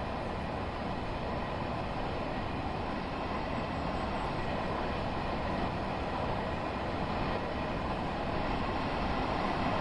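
Long Island Rail Road train in the Train Sim World video game, a steady broadband rumble of rolling stock that holds at an even level throughout, with no voices.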